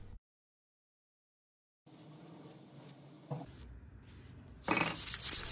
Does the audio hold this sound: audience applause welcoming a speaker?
no